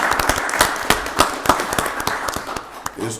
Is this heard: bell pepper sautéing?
no